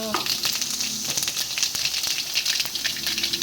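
Mustard seeds frying in a little coconut oil give a steady, dense sizzle with scattered sharp crackles and pops, loud and close, continuing without any voice over them.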